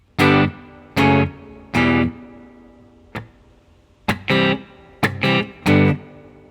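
Guitar chords are strummed in short bursts with pauses between, a few quick single hits mixed in, slightly overdriven and fairly close.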